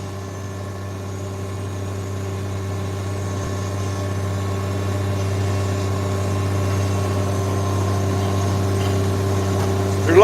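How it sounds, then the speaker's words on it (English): A 1998 tractor engine idles steadily and close by on a farm, a constant low drone with a slight rise in loudness, heard alone without any talk. "No, the tractor's from 1998."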